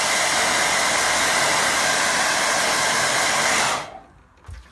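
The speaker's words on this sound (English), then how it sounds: "Quick blast with dryer." A hair dryer blasts steadily on a wet watercolour painting of a waterfall and lake, a loud close whooshing roar that stops abruptly near the end, followed by a soft clunk.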